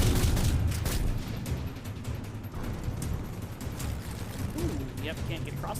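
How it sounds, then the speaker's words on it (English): Canisters blowing up in the video game Mass Effect 3, a dense, loud wash of blasts and rumbling booms that fills the whole stretch, with game voices or talk mixed in. "I just detonate something here, because I think those canisters are all very explodable"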